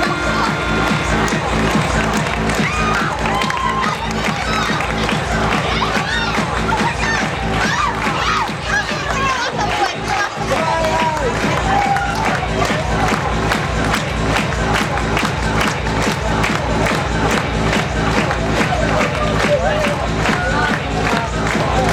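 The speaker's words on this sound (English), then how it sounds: "let's give them a big round of applause" A large arena crowd at the 2016 FRC World Championship opening ceremonies cheers, whoops and claps continuously, loud and sustained throughout, with voices shouting in the mix.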